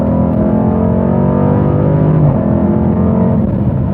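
A 2018 Dodge Durango SRT with the 392 V8 and ZF 8-speed automatic accelerating hard, a loud steady engine drone heard from inside with a quick pitch drop at a gear change, no talk.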